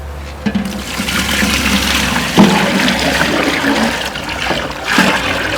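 Water pours and splashes continuously into a pot of rice for cooking, a steady rushing stream close by with a few louder gushes.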